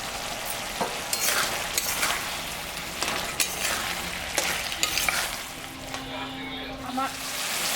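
Parshe fish fries in a pan for a spinach ghonto, with a steady sizzle and the scrape and clatter of stirring. The frying is close and fairly loud, with a voice faintly audible underneath.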